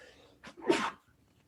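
A single person sneezes once, a short sharp inhale-release burst near the microphone in a quiet room, with faint background hiss before and after.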